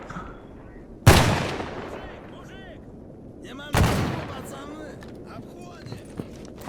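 Two sharp, loud gunshot blasts with long echoing tails, about two and a half seconds apart, ring out in a firefight in the game Stalker Gamma, with low ambient rumble between the shots.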